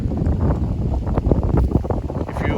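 Strong wind buffets the microphone beside a 2025 Mercedes-Benz CLE 450 Cabriolet, producing loud, low rumbling gusts that fluctuate constantly.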